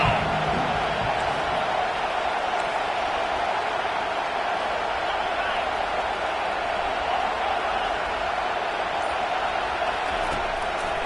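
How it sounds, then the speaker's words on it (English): Home stadium crowd in College Football 25 on PS5 roars steadily through a third-down defensive stand, a dense, continuous wall of cheering and noise that holds at a constant level. "Here comes this home crowd as the defense tries to get off the field on third down."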